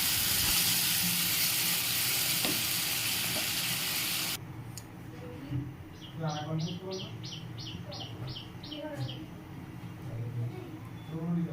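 Water poured onto a ground mustard, cumin and chilli paste frying in a pan erupts into a loud, harsh hiss for about four seconds, then dies down to a soft simmer while birds chirp repeatedly in the background.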